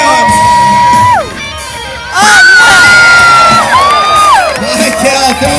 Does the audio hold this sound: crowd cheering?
yes